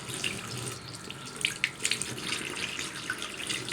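Tap water runs steadily into a sink during ablution, a continuous close splashing stream with small splatters, no voices over it.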